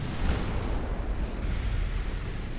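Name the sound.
battleship guns firing in video game Ultimate Admirals: Dreadnoughts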